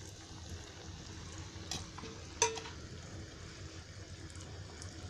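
Salmon fish pieces deep frying in hot oil, a soft continuous sizzle with a few faint clinks and one sharp utensil tap partway through, fairly quiet and close.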